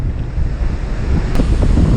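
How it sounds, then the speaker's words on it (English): Strong, continuous hurricane wind roaring loudly south of New Orleans, with a surf-like rushing wash and slight swells in intensity as gusts push through. "we had some gusts that was pulling that tree up"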